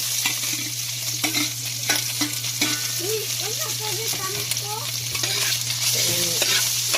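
Meat stir-fried and browning in a pan for pancit, with a continuous close sizzle broken by repeated scraping and stirring strokes, and no voices.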